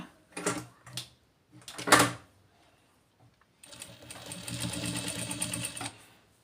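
A sewing machine runs in a steady, fast stitching burst while sewing a blouse, preceded by a few soft handling knocks and clicks; close and fairly loud, with no talk.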